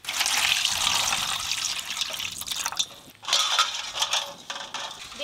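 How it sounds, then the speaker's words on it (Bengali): Eggs washed in water in a home kitchen, a steady splashing trickle with brief pauses and sloshing handling noises, close by. "ভালো করে প্রথমে জল দিয়ে ধুয়ে নেব, তারপর সেদ্ধ করব।"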